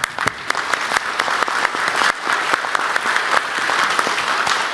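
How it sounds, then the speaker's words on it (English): Audience applause for panel speakers at a finance forum, a continuous burst of many hands clapping in a room, fairly loud and sustained with no talk over it. "So round of applause for our speakers"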